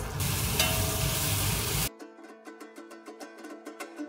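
Vegetables frying for a homemade noodle dish, loud dense sizzling for about two seconds that cuts off abruptly into a quieter stretch of rhythmic, evenly spaced tapping pulses.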